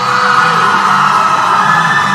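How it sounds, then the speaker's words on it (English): A live crowd at a netball grand final between Fiji and Tonga roars and cheers as the teams come onto the court, a loud, sustained wall of yelling and whooping filling the arena. "And here goes the crowd."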